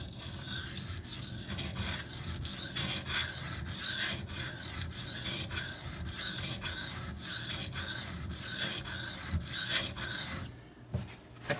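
A Maxamet steel knife is drawn across Venev diamond sharpening stones in steady, rhythmic rasping strokes, close and continuous, ending with a short pause.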